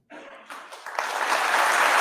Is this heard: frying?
no